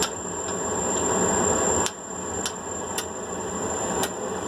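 Hot metal is struck on an anvil while a cooking tripod is being forged, giving five sharp, bright hammer strikes spaced roughly half a second apart over a steady background hiss and a high tonal whine.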